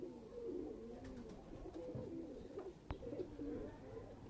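A breeder pair of pigeons cooing softly and repeatedly at close range, low rolling coos in a quiet setting with a faint sharp click partway through.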